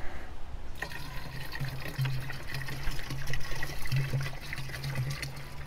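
A full gallon jug of vinegar glugs and splashes steadily as it pours into a container, a continuous close liquid fill with faint gurgling pulses and no talking.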